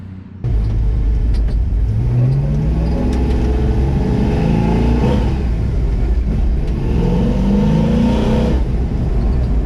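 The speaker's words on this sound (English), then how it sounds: "The only thing left to do is take her for a test drive." A Denali pickup truck's engine rumbles loud and close on a test drive, rising and falling through repeated revs with a continuous low drone and no speech.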